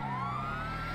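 A police car siren wails loudly and steadily up close amid vehicle combat in an arena battle video game, with a low engine rumble beneath and no talking.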